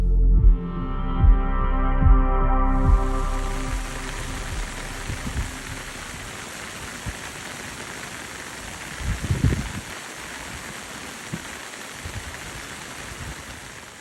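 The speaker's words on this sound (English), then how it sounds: "And when I say rain, I mean almost continual, non-stop, very heavy rain." Very heavy, continual rain pours down steadily with a dense hiss, loud and close, after a brief low rumble at the start; no voices are heard.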